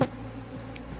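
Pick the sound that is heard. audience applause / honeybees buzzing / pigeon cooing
honeybees buzzing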